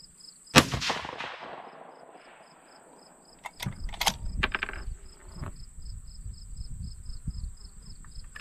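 A single sharp 6 Dasher rifle shot cracks out loud, followed by quiet outdoor ambience and a few bolt-work clicks and rustles, with insects buzzing steadily in the background.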